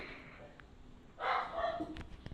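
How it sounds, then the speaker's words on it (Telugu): A pet dog barks somewhere in the house during a mobile gaming session, a few short muffled yelps heard from a distance that stand out over quiet room noise. "మా డాగ్ అయితే అక్కడ అరుస్తుంది"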